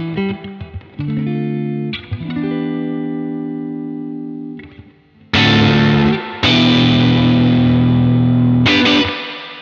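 Electric guitar played through a Universal Audio Fender amp pedal with reverb: sustained chords swell and ring out with a long washing tail, then louder, brighter strummed chords burst in near the end, close and loud.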